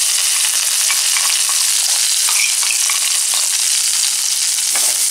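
Spices and dried chillies sizzle and fry steadily in hot oil for rasam, a loud, close, continuous crackle with occasional stirring.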